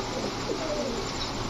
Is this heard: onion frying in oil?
no